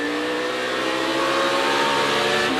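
Onboard a Chevrolet stock car driven by Ty Dillon in a race, the engine screams loud and close, revving steadily upward in pitch through a short burst.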